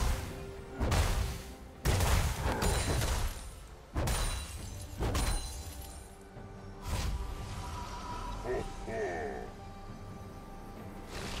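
A turret is destroyed in a League of Legends top-lane match, Malphite against Dr. Mundo. Heavy booming impacts and crashes hit in an uneven series over steady in-game effects, with a game voice speaking.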